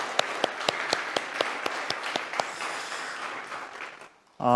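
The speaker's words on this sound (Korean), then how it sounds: "더욱 건강하시라고 감사하다고 우리 박수로 한번 격려하겠습니다" A church congregation at a Sunday service claps in encouragement, a sparse run of distinct hand claps over a softer wash of applause that fades away, cut off by a sudden louder sound at the very end.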